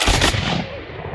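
Garrison reenactors fire a volley of muskets at a fort, one sharp loud blast that rolls out into a fading echo, no talk over it.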